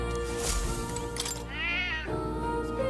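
A cat meows up close, giving a few drawn-out, wavering calls that rise and fall in pitch, with some rustling around them and no speech.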